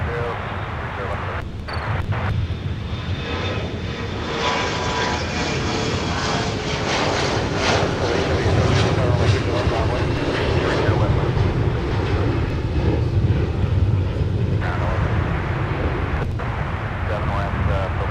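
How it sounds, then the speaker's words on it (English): A CRJ regional jet at Minneapolis airport, its engine roaring steadily and fairly loud throughout, with radio talk and a voice speaking over the jet noise. "this would not be a Midwestern airport without the presence of a CRJ"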